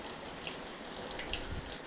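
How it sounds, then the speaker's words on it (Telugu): A steady monsoon drizzle gives a faint, even hiss of rain with a few soft drop ticks, distant and quiet throughout. "వర్షాకాలంలో ముసురు పట్టింది చూడండి"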